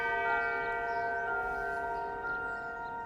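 A clock chime rings out one sustained, resonant bell tone that hangs steadily in the air and slowly fades. No one speaks.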